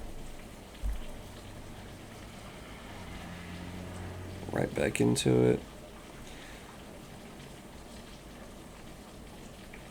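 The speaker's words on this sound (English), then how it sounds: "there is plenty of rain coming down. My window is like slightly open." Rain pours down outside a slightly open window as a steady, soft hiss, while a person speaks briefly over it midway.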